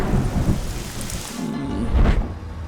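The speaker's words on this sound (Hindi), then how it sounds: "बारिश पसंद है तो फिर बारिश में भीगो।" Heavy rain pours steadily with loud rumbling thunder rolling through, a close storm with no voices.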